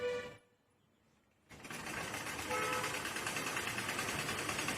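A sewing machine stitches folded fabric for a nighty pocket. It comes in after a short quiet gap, then runs as a steady, close mechanical whir to the end.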